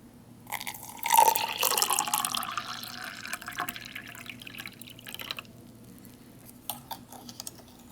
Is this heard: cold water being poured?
yes